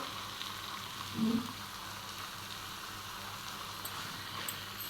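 Chicken marinated with turmeric and pepper is added to tomato masala in a pan for chicken mappas, giving a soft, steady sizzle with one brief dull bump near the start and no talking.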